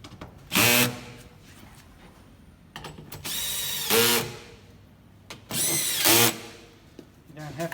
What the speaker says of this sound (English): We use a cordless drill with a 10mm socket.